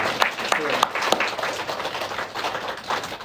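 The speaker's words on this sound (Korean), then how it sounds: "우리 모두 축하합니다. 박수 한번 하겠습니다." A church congregation at Sunday worship claps for a newlywed couple, moderate and continuous applause with voices mixed in.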